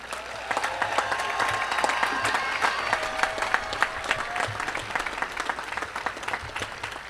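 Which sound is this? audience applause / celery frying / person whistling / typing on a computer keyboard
audience applause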